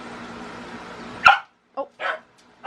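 A newly adopted stray puppy lets out a sharp, loud bark indoors, then a few quieter yips and grunts follow after a short pause.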